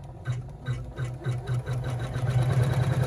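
A Janome sewing machine stitches an in-the-hoop appliqué bag, its needle thumping in a steady rapid rhythm of short bursts that run together near the end, close and moderately loud with no talk.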